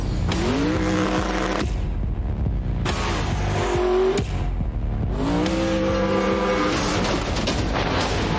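Forza racing game cars roar through repeated acceleration runs, engines revving up through gears with whining pitch sweeps and tire noise, loud and continuous with sharp cuts between bursts, no talking.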